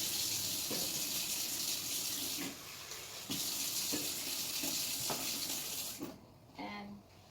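Water pouring from a tap into a sterilizing pot, a steady loud gushing hiss with a few small knocks, easing off near the end.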